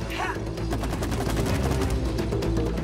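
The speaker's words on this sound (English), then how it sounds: "Shoot in the air!" Constant rapid gunfire in the video game It Takes Two, a loud, dense stream of shots with no gaps that fills the whole moment.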